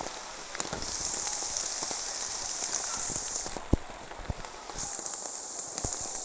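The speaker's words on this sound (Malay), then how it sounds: "Ni hujan ngado sikit." Steady rain falls on an open rice field, a dense even hiss with scattered heavier drops and occasional knocks, close and continuous with no one talking.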